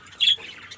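A budgerigar squawks once in a breeding pot, a short shrill call rising clearly above a quiet background, brief and close.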